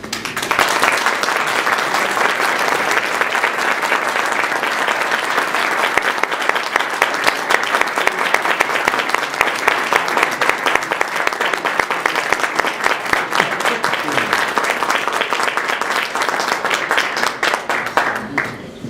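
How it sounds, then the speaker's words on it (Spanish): An audience at an awards ceremony applauds in a long, loud, steady burst of many hands clapping that holds for nearly twenty seconds before tapering off at the end. "pidiéndoles a todos que se unan conmigo en un aplauso"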